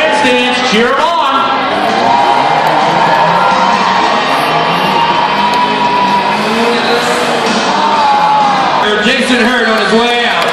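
A grandstand crowd cheers at a Tuff Trucks event at the 2013 Clark County Fair. The cheering is largely buried under loud, roaring truck engines, with an announcer talking over it.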